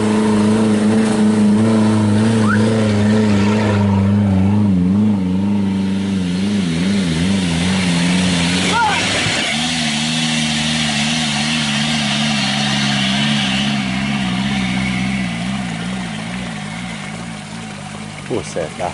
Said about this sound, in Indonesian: Buset, dah mobil dua balapan tuh sahabat.